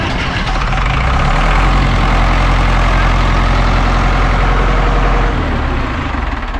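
An Ursus C-360 tractor engine runs loud and steady close by, a dense continuous diesel chug that holds at idle throughout.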